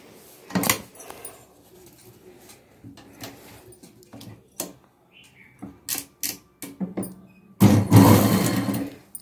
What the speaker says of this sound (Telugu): ఇలా మిడిల్లో నుంచి స్టార్ట్ చేసుకుంటూ ఒకవైపుకి స్టిచ్ చేస్తున్నానండి.